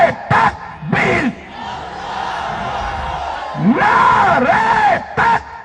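A large rally crowd at an outdoor political jalsa roars in answer to the Takbeer slogan, with a leader's voice calling over loudspeakers in short bursts and the massed shout swelling and holding in between.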